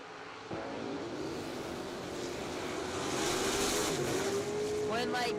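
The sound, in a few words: race car engine on a racetrack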